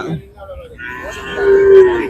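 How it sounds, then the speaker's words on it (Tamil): A cow at the busy Manapparai cattle market lets out a loud, close, drawn-out moo that swells toward the end, over a low murmur of crowd noise from the market. "கருப்பன் மாடு மாதிரி இருக்கா"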